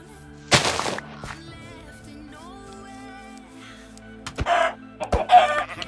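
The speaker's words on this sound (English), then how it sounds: "How are these chickens surviving?" Chickens in Minecraft cluck in short bursts, with a couple of loud flapping or hit sounds, set against a quiet, steady game background.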